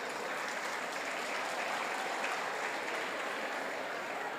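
A lecture audience breaks into sustained applause, steady and even hand-clapping that fills the whole few seconds at moderate volume from a crowd in a hall.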